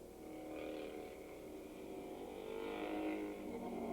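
600cc single-cylinder racing motorcycles at Willow Springs International Raceway, a steady engine drone at moderate distance with a slowly rising and falling pitch as the bikes pass through lap traffic, no voices.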